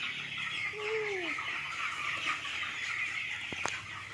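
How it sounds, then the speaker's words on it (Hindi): Chickens cluck and cackle on a village farm, with a few sweeping calls standing out clearly over a steady outdoor hiss of insects and ambient noise. "मुर्गी बाबा, मुर्गी।"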